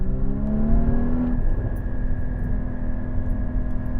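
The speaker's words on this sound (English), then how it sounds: "All right, Porsche GT4." Porsche 981 Cayman GT4 mid-engine sports car droning steadily from inside the cabin, a loud sustained engine tone with a brief rising whine early on that then settles into an even hum.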